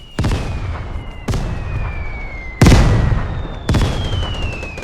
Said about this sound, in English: Are they mortaring me? Yeah, I think so.